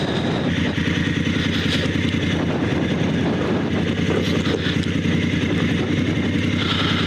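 A motorcycle on Shinko 705 dual-sport tires descends a dirt hillside, its engine droning steadily and close with heavy wind buffeting throughout and no one talking.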